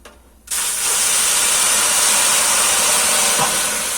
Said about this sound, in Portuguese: Eu vou colocar água fervendo aqui embaixo, tá?